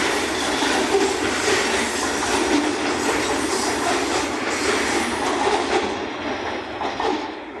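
A DB Schenker Class 66 locomotive hauls aggregate wagons past in sleet, a loud continuous rumble with rhythmic wheel clatter and faint squeals, fading slightly toward the end.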